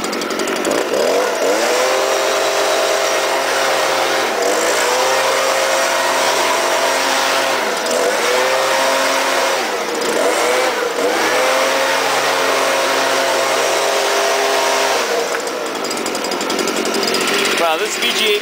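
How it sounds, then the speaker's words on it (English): A Stihl BG 86 gas leaf blower runs loud and close throughout, its engine droning steadily with repeated dips and surges in pitch as the throttle is eased and reopened, during autumn lawn work. "this BG86 is an awesome blower"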